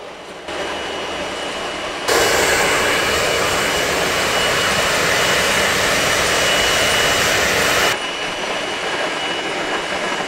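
A powerful air blower roars steadily at a DJI Avata 2 drone during a close-range stability test, a loud sustained broadband rush starting abruptly and holding for several seconds before dropping back to a quieter blowing hiss.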